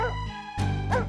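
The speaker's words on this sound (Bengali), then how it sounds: "এত রাতে কুকুরটা আবার ঘেউ ঘেউ করছে কেন?" Short, loud barks from a dog at night in a cartoon, two close yips a fraction of a second apart, heard alone without talk.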